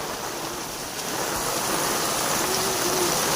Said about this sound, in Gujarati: આ બાજુ ધોધમાર બંબા પડી રહ્યા છે